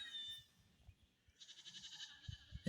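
A mother goat on a homestead calls for her kid with repeated bleats, fairly faint and distant, over low rustling background noise.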